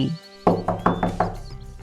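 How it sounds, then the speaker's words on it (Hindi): Knocking on a door in a Hindi cartoon: five sharp knocks in a fairly even rhythm, close and clear over a soft background music bed, with no talking. "अरे दरवाजा मत बजाओ मीनू चिड़िया, कहा ना मैंने कि मैं नहा रही हूँ"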